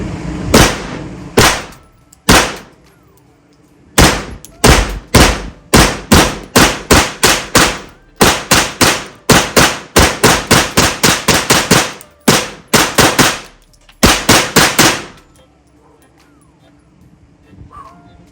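A .380 pistol fired at an indoor range, with a string of loud, sharp gunshots in uneven rhythm, several quick series with short pauses between them, close and echoing.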